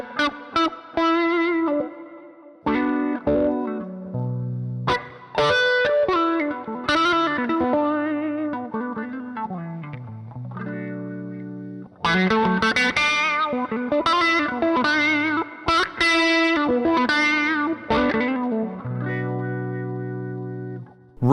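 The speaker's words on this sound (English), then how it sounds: "this is like that Vox grey wah sort of sound" Electric guitar runs through a DIY wah pedal fitted with a custom 250 millihenry inductor, giving a Vox grey wah style tone: sweeping, vocal-like riffs and single notes with bite and some grit, loud and close, with no talking.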